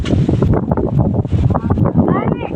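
Strong wind roars and buffets the microphone continuously, with a voice speaking over the gusty rumble.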